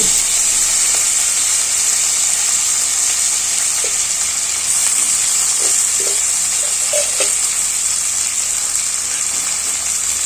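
Fenugreek leaves frying in hot oil with mustard seeds and cumin: a loud, continuous hissing sizzle that holds steady throughout, with a few faint pops and clicks, no talking.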